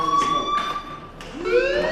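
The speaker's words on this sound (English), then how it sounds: "Hey, do you hear that fire alarm?" A school fire alarm in the Life is Strange video game, heard as a sustained electronic tone that drops and restarts in short pulses, moderately loud against a quiet game background.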